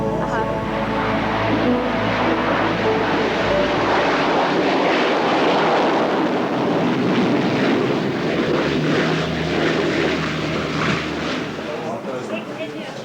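A 1980s aircraft cabin in flight toward the Ninian Central oil platform, with a loud steady engine drone throughout, easing slightly at the end, as people talk over it.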